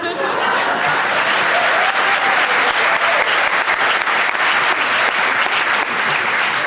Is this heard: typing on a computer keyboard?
no